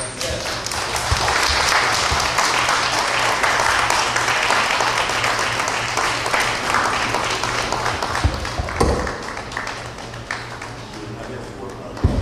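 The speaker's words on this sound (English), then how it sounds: "give him another round of applause, please" A crowd claps for a performer in steady, sustained applause that fades gradually toward the end, with a few voices mixed in.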